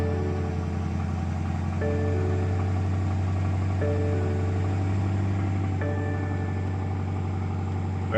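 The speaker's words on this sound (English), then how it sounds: "Hit the button to start the engine." A 2017 BMW 650i Gran Coupe idles with a steady, even engine hum after a push-button start, loud and close throughout, with a few tonal chimes stepping in at regular intervals over the drone.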